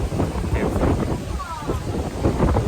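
Steady rushing wind buffets the microphone throughout on Boracay island at night, with people talking close by underneath the roar.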